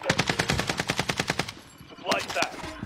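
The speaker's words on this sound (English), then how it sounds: "They're shooting at me." Rapid bursts of automatic gunfire in an online shooter match, about a dozen evenly spaced shots over a second and a half, loud and close, followed by a brief pause and a few more scattered shots.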